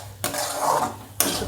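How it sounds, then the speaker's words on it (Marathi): A spoon scrapes and stirs a thickening mango barfi mixture in a kadhai. Two short, close scraping strokes sound against the pan, and no one speaks. "असं हलवत राहायचं।"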